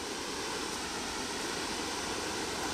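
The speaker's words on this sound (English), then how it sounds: "the waterfall" A large waterfall in Canada, with ice floes drifting nearby, gives off a constant dense roar of rushing water. The sound is steady and broadband, with no breaks or voices.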